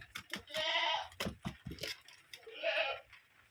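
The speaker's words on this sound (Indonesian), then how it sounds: "sapi itu bengak-bengak" A cow bellows twice in drawn-out, moderately close calls, with short bits of talk between them.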